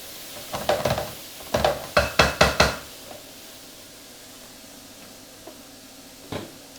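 Mushrooms being stirred in a pan, with a quick run of close scraping, knocking strokes against the pan that then fade to a quiet sizzle broken by an occasional single tap.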